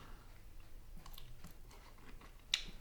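Crisp crunching bites of cooked shrimp up close, a few soft chews with one sharper crunch near the end, no talking.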